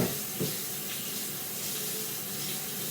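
Running tap water rinses knife blades and a cutting board in a steady, close hiss of spray with a brief splashy burst near the start.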